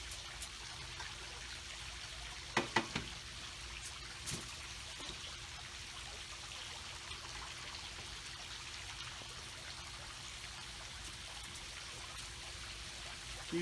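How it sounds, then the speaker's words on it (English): Juice dripping off smoked chicken halves fresh from a Pit Barrel Cooker, a faint, steady trickle running throughout with a few brief clicks near the start and no talking. "Juice is dripping off of them."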